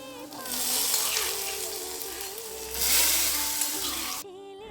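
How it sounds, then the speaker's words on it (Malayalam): Cashew nuts frying in ghee for a sugar-free payasam hiss in a steady broad sizzle, rising louder midway and cutting off near the end, while a voice talks over it. "നമുക്കിനി കാഷ്നട്ട് വറുത്തെടുക്കാം."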